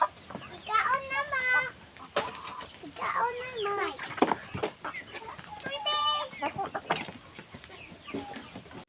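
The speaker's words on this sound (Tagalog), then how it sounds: "Ito naman kami sa mga native chicken." Native chickens on a small backyard chicken farm cluck and call repeatedly, close by, with short bursts of squawking and clucking overlapping one another throughout.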